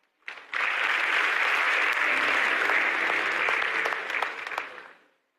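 Sustained audience applause at a formal public policy ceremony, a dense wash of clapping that starts abruptly, holds steady for several seconds, then fades out.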